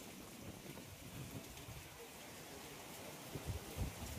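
Heavy thunderstorm rain falling on a balcony with potted plants, a faint, steady wash of rain noise with low rumbling bursts near the end.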